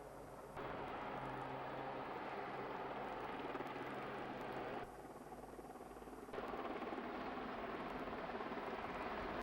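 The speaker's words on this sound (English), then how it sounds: "The helicopter's seen many years in service with the RAF." An RAF yellow search and rescue helicopter running continuously nearby, a loud steady rotor and turbine roar with slight shifts in level, no voices.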